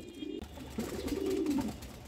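Domestic pigeons kept at home cooing in a low, throaty rolling coo that swells and fades over about two seconds, fairly close and fairly quiet, with no talk.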